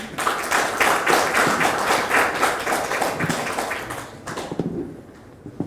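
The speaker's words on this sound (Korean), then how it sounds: "김효정 과장님 다시 한번 큰 박수 부탁드리겠습니다" Audience applauding after a presentation at a consumer forum on product safety management, dense steady clapping from a crowd that slowly thins out and fades toward the end.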